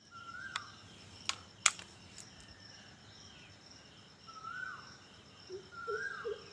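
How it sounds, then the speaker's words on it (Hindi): Birds calling and chirping in the early morning, with short rising and falling whistles and a few sharp chirps spread across a quiet background hum, no people talking. "सुनिए रियल की आवाज़ बिना पैसे की, पक्षियों की आवाज़, इतनी प्यारी प्यारी सी आवाज़ें सुनिए आप"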